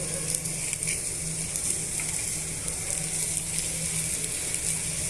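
Dry red chillies and cumin seeds sizzle and crackle steadily in hot oil in a pan, a close, continuous frying hiss with faint stirring.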